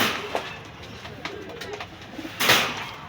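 Pakistani pigeons in a bird shop coo in low, repeated murmurs, with wing flutters or rustling and a sharper burst near the end.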